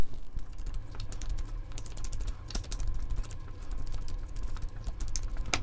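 A tarot deck is cut and shuffled up close, with a dense run of light, sharp card clicks and flutters and no talking.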